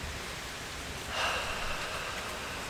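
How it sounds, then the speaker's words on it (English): Soft, steady rain patters as a gentle hiss in a quiet indoor setting, with a faint swell of heavier drops partway through; no voices are heard. "rain."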